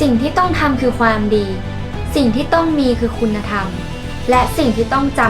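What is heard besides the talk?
No distinct noise like a dog, phone or traffic.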